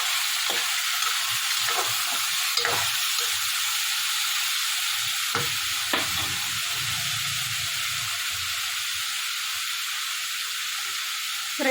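Mutton sizzles steadily as it fries in a hot pan, a constant bright hiss broken by occasional scraping clinks of a spoon stirring the meat.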